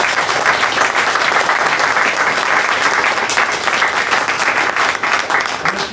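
Loud, sustained audience applause at a live medical technology event in Boston, dense and steady with no talk throughout.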